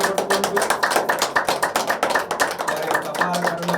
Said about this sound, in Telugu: వారికి ఒకసారి గట్టిగా చప్పట్లు కొట్టుకుంటూ